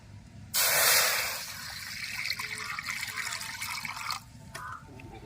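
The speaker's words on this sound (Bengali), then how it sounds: "কড়ার মধ্যে জল দিয়ে দেবো ডালটা সেদ্ধ করার জন্য" Water pours into a wok on a lit stove for boiling chana dal, a loud bright gush at first that settles into a steady splashing trickle for several seconds, then stops.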